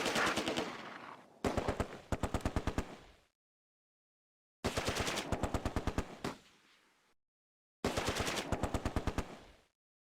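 Heavy machine-gun fire in the Close Combat World War II strategy game, coming in three loud rapid bursts of evenly spaced shots, each fading out, separated by stretches of silence.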